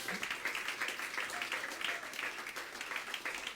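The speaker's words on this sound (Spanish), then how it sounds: "Dale un aplauso al Señor." A church congregation gives applause during a sermon, a soft, continuous patter of many hands clapping at a distance, fairly faint and steady.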